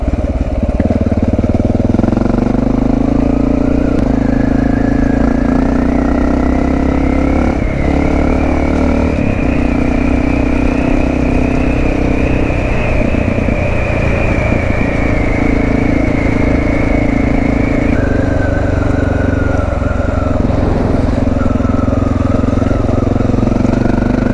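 Honda XR650L dual sport motorcycle running steadily on a road ride, a loud continuous single-cylinder engine drone with rising and falling revs and wind rush throughout, no talking.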